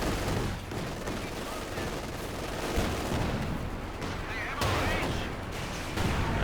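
Gunfire and explosions from Company of Heroes 2, the World War II strategy game, crackle in a dense continuous battle mix, with steady rattling shots and occasional heavier bursts throughout.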